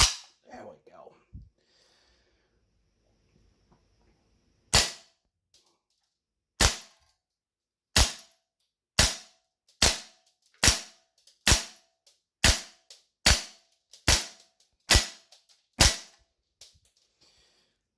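Umarex MP5K PDW airsoft gun running on green gas fires 0.2 g BBs in about a dozen sharp, loud single cracks, spaced roughly one second apart and quickening toward the end, after a few quieter handling clicks.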